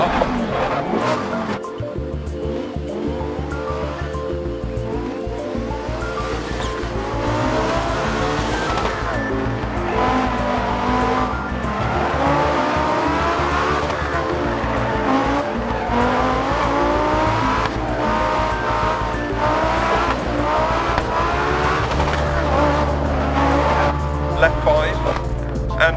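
An Audi Quattro Group B rally car runs hard through Rally Deutschland Stage 7 in the Dirt Rally video game, with a loud, continuous, shifting engine roar and occasional tire noise as a co-driver's voice calls over it.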